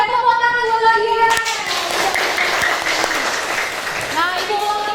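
A classroom of students applauds a classmate for a good answer, a burst of clapping that follows a sustained tone and carries on briefly before fading.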